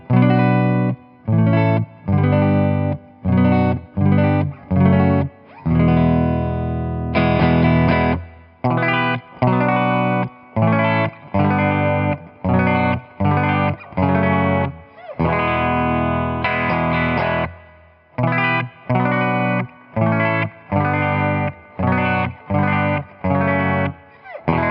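Electric guitar played through an Orange Gain Baby 100 amplifier into a Celestion G12H Redback speaker, loud distorted chords struck in short repeated stabs with two longer sustained strums and crisp silent gaps between, no talk.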